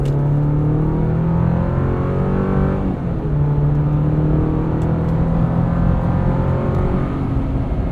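A 2024 Chevrolet Colorado ZR2 pickup with the 2.7 turbo engine accelerates hard onto a highway, heard from inside the cab as a loud steady engine drone that rises in pitch, briefly drops at a shift, then climbs again.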